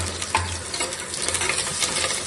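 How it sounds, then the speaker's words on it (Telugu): Coriander and garlic frying in a hot pan, a brief burst of dense sizzling with a scrape of stirring, close and steady. "ఇవన్నీ వేసుకొని దోరగా వేయించుకోవాలి."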